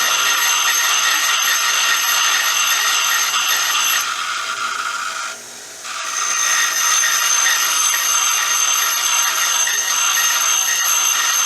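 A steel chisel is drawn back and forth by hand over a sharpening stone in a steady continuous rub, loud and close, broken by a brief pause midway before the strokes resume.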